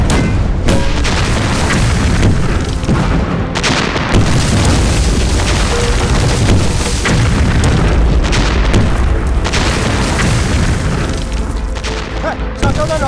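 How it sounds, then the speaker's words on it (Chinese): Japanese artillery positions fire in a war film battle scene, with a dense, relentless barrage of loud booms and explosions over 13 seconds and shouted voices mixed in. "日本人炮兵阵地开炮了！"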